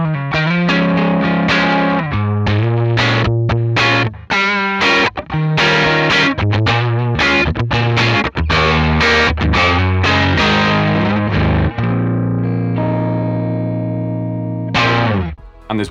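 Loud, crunchy electric guitar riffing through a CorOS amp modeler, with choppy, stop-start chords and picked phrases, ending on a long ringing chord and a final stab.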